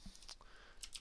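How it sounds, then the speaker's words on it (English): A few quick, faint keystrokes on a computer keyboard as a short command is typed, with soft clicks close by in a quiet room. "What we're going to do is type in sudo"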